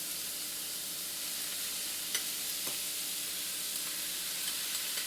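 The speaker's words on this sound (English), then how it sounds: "Have a listen to that sizzle." Mushrooms sizzle in hot oil in a cast iron pan, a steady dense frying hiss running throughout with a couple of small pops, close and fairly quiet, with no talking.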